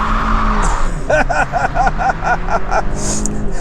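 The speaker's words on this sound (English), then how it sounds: "coming to a complete stop. Ease onto the throttle." A Kia K5 GT sedan with a 2.5-liter turbo engine pulls away from a complete stop with a rising engine note and a brief burst of tire chirping, loud and close.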